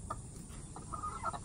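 Soft, faint chicken clucks come in a few short bursts against a low background hum.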